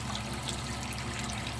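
Water runs steadily from a tap in a trickling, continuous wash while an item is scrubbed clean, close and fairly quiet, with no talking.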